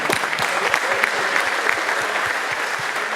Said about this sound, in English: I would like to give them a round of applause.